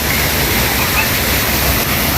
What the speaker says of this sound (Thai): เดินไปดูน้ำตกนะครับ